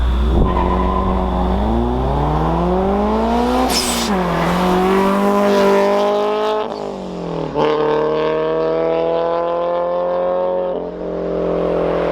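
A supercharged Subaru BRZ engine revs hard on a dyno, its pitch climbing and falling in long sweeps with a rough, loud, continuous roar and no voices.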